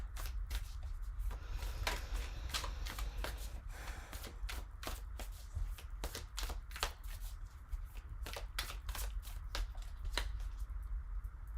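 Tarot cards are shuffled repeatedly, producing quick riffling flutters and soft taps in an irregular rhythm, close and fairly quiet.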